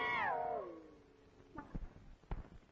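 A cat meows at night with one long, loud, descending cry, followed by a few sharp knocks and clatters as something is rolled or bumped nearby.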